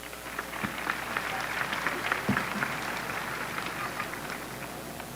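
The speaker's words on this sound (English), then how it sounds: "Let's give him a round of applause." A high school graduation audience claps steadily for a few seconds, a dense spread of individual hand claps at moderate distance, with some voices mixed into the crowd noise.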